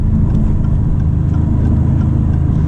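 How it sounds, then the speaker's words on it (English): Maserati MC20 engine running in Corsa mode on a first drive of the 2024 car, a loud, deep, steady engine drone heard from inside without a break. "you know you're in Corsa because the engine noise got a little louder"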